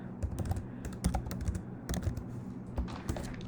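Quiet, steady typing on a computer keyboard, a run of soft irregular key clicks with occasional sharper taps, close and alone.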